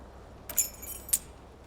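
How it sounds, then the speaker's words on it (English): Keys clink on an aluminum keyring inside a flare-cut trouser pocket in Disco Elysium, two quick, faint metallic chinks about half a second apart over quiet background. "Keys are clinking in the pocket of your flare-cut pants."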